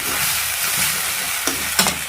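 Meat fries in a pan with a loud, continuous close sizzle, broken by a couple of sharp stirring clacks near the end.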